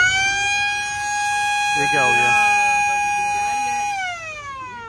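A tourist steamer boat's siren blares as a long steady horn with layered harmonic tones, loud and close, held for about four seconds before dropping in pitch, while a person briefly speaks over it.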